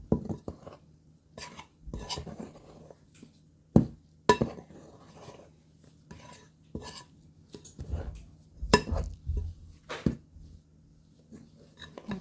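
Food being chopped up in a pan with a utensil during home mayo and spread prep with coconut oil and butter chunks, a series of sharp uneven clinks and scrapes, close and fairly loud, spread across the whole stretch.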